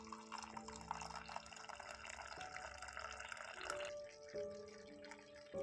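Homemade dhaba-style ginger milk tea poured from a pan into a cup, a steady liquid trickle that runs continuously and fairly softly before thinning out toward the end.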